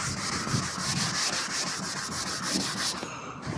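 A rag wipes the surfaces of a Ford F350 truck in quick, regular back-and-forth strokes, making a steady rhythmic rubbing, close and moderately loud, with no speech.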